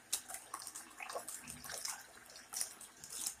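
Water runs faintly into a tub to prepare a shallow bath for a hedgehog, a soft, uneven splashing and trickling with small drips, quiet and with no speech.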